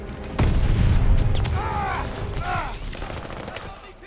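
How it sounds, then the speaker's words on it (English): A grenade explodes with a sudden booming burst in Call of Duty: Vanguard, followed by rattling gunfire and brief in-game voice fragments, all fading gradually over a few seconds. "Incoming grenade!"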